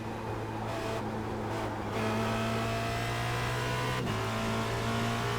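Formula Renault race car in the iRacing sim at Spa-Francorchamps, its engine droning steadily at high revs throughout, with a brief dip and shift in pitch near the end, loud and continuous with no talking.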